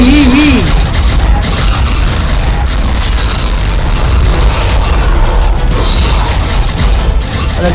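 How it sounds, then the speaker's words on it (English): A Gamma dragon in the game Ark unleashes its fire breath against a pack of Therizinosaurus: a loud, continuous roaring rush with rumbling booms and crackling bursts, dense and close, with no voices over it. "the dragon's fire breath attack can actually take out your armor straight from your mount"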